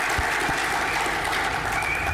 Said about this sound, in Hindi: इस साल की सफलता के लिए, इस साल के सक्सेस के लिए फिर एक बार आप सभी के लिए जोरदार तालियां।